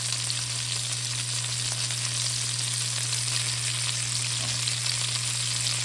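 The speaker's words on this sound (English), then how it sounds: "so now we're going to add a half a stick of butter" Half a stick of butter fries in wing grease with a continuous even sizzle, close and steady, over a low electrical hum.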